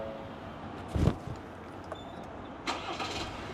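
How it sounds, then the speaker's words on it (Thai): A Ford Everest 2.0 twin-turbo engine cranks briefly and catches, then settles into a quiet, smooth idle with a second small surge a moment later. "ฟังเสียงให้ท่านผู้ชมได้ฟังเสียงเครื่องยนต์นิดน ึงนะฮะ"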